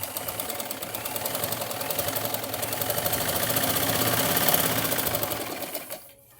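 A sewing machine stitches tucks into a blouse, running in a fast continuous mechanical rattle that builds slightly louder, then stops abruptly near the end, close up and with no voices.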